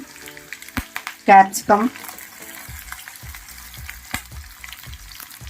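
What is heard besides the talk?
cumin seeds and vegetables frying in hot oil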